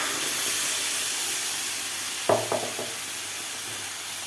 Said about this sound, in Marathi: तर व्यवस्थित आपल्याला हे मिक्स करायचं आहे